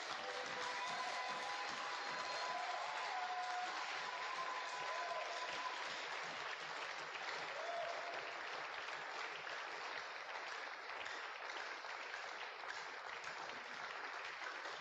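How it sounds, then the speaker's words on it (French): A church congregation applauds continuously and loudly, a dense unbroken wash of clapping that holds steady from start to finish, with faint voices mixed in. "Acclame, acclame, acclame."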